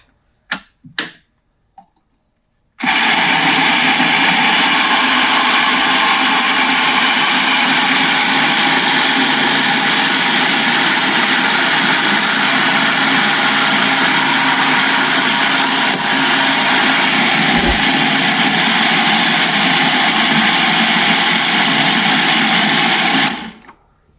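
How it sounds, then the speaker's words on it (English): A food processor whirs steadily for about twenty seconds, blending almonds into vegan ricotta with a loud, continuous motor drone and grinding rush, after a few brief clicks and knocks at the start. "It's all down inside the drum of the food processor"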